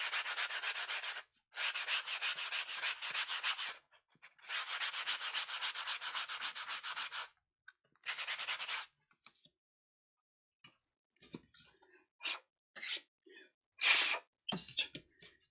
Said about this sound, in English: just give it a little bit of a sand